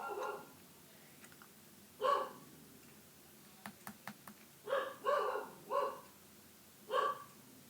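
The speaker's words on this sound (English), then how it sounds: "if you guys heard barking, yeah, that was my grandparents' dog." A small dog gives several short yappy barks, a pair then a few spaced ones, fairly close, with a quiet room and no talking.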